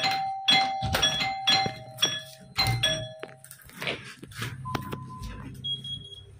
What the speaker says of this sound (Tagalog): Grabe, maka-doorbell!